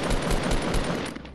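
Rapid gunfire from a Fortnite Battle Royale match, a dense loud burst of repeated shots running almost without a break before it thins out at the end.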